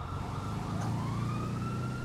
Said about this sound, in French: J'entends les sirènes.